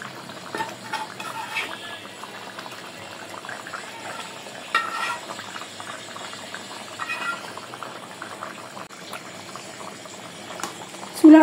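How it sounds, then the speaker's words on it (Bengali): Rohu fish curry broth boils in a pot, giving a soft, continuous bubbling with scattered small pops and splutters, close and fairly quiet, with no voices. "আমার ঝোলটা যখন পুরোপুরি ফুটে উঠবে তখন আমি মাছগুলো দিয়ে দেব"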